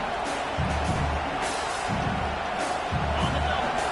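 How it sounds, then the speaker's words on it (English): A dense, steady crowd roar fills a large football stadium during a game against South Carolina, with muffled low thumps pulsing underneath at regular intervals. "Listen to this crowd just shaking the girders of this place"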